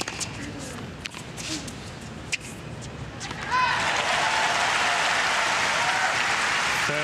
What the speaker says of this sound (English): And the crowd there, but just a little louder, stronger support there after Isner winning the point.